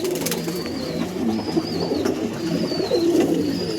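Andhra pigeons at a breeder's home coo in overlapping, rolling low calls close by, with brief higher chirps and rustling over steady background noise.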